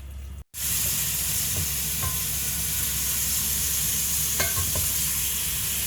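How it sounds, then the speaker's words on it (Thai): Beef stir-fries in a pan over high heat for a Thai red beef curry, giving a loud, steady sizzle and hiss. Faint clicks of stirring come through now and then after a brief gap at the start. "ผัดเนื้อสักพักหนึ่งก่อน ตอนนี้เราเร่ง ไฟขึ้นได้ค่ะ"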